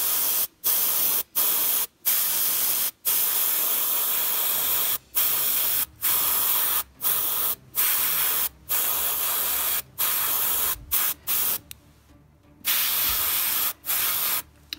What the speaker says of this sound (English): So I'm just using a special airbrush.